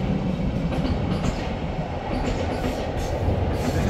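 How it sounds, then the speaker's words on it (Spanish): A City Elephant double-deck passenger train rolls past on the line toward Prague, a loud, steady rumble of wheels and cars with faint clatter, sustained and close throughout. "Puede verse ahí el tren City Elephant."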